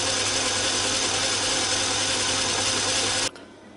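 A Myford ML7 lathe runs with its lead screw turning while a toothbrush cleans the thread, giving a steady, loud mechanical whir with no break, then a sudden drop near the end.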